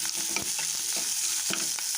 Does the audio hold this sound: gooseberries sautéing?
yes